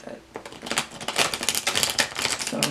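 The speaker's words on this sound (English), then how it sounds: "I'm going to shuffle one more time." A deck of tarot cards is riffled and shuffled in a steady run of crisp, rapid flicking clicks, close by and fairly loud, with no talking over it.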